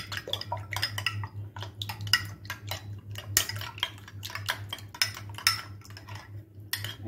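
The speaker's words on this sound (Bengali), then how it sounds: "একটা চামচের সাহায্যে ভালো করে ফেটিয়ে নিচ্ছি।" Two eggs with salt are beaten in a bowl with a spoon, giving a steady run of quick, close metallic clinks and taps against the dish over a constant low background hum.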